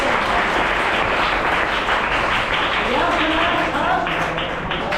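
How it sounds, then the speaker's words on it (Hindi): Students and guests at a school National Sports Day prize event applaud the first, second and third place winners with loud, sustained clapping, and voices rise over it partway through. "जोरदार ताली लगाओगे, जोरदार ताली"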